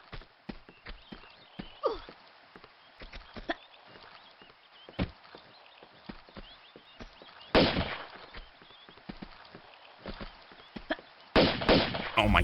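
Gunfire rings out in a video game, with sharp scattered shots through a steady backdrop and two louder, denser bursts near the end.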